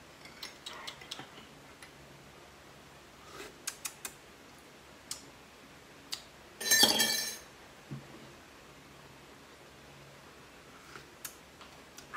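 Light glass ticks and small clinks scattered through a quiet room, then one brighter burst of glasses clinking together in a toast over coffee, followed by a few more sparse taps.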